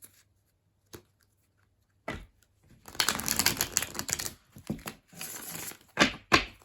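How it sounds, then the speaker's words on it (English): Tarot cards are shuffled by hand in a few close, papery bursts of riffling and flicking, separated by short quiet gaps, with no talking. "I'm going to give him one more good shuffle here"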